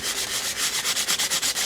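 Sandpaper rubbed over paper to give a grungy distressed collage look, quick rhythmic back-and-forth scratching strokes, close and steady.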